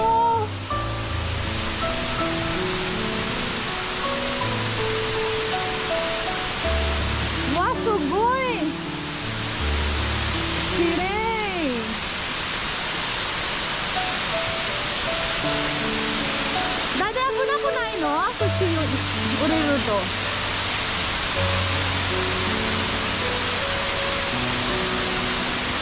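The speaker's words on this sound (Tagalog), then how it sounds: "Guys, tingnan niyo yung falls dito!" Ryusoga waterfall in Ikeda, Japan, roars as a steady, loud broadband rush throughout, with excited voices talking over it at intervals.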